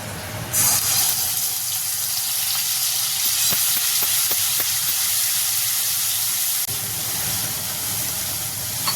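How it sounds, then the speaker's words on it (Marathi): Curry leaves and ground chilli masala fry in hot oil in a kadhai, giving a loud, steady sizzle throughout with faint stirring scrapes and no voices. "आपण कडेमध्ये तेल टाकले दोन चमचे त्यामध्ये आपण हा कडेपत्र टाकायचा मिरचा मसाला वाटलेला ना तो त्यामध्ये ॲड ॲड करायचा आहे"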